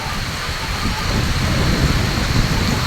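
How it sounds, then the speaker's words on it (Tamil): Heavy rain falls near a village temple in a steady, loud, dense hiss with a low rumble underneath that continues without a break and without any voices. "மழை நிறைய பெஞ்சிட்டு இருக்கு."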